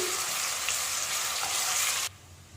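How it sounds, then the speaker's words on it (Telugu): Ginger paste frying in oil gives a loud, dense sizzle with faint stirring, close up; it cuts off abruptly near the end, leaving only quiet room noise. "అల్లం పేస్ట్ మనకు కొంచెం పచ్చివాసన వెళ్ళే వరకు బాగా ఫ్రై చేసుకోవాలి"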